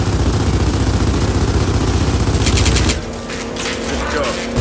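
Heavy automatic gunfire aimed at the core in Gears of War 4: dense, loud, continuous shooting for about three seconds, then it drops to quieter game ambience with scattered clicks.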